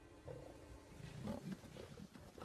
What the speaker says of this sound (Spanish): Los demás leones van corriendo.